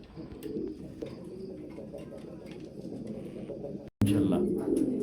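Pigeons kept at a breeding farm coo in low, repeated throaty bursts close by, with faint background voices and a brief cut near the end.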